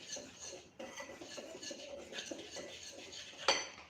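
Malpua batter with coarsely crushed fennel mixed in a bowl, a spoon clinking and scraping steadily against the sides close by, ending in one sharper knock.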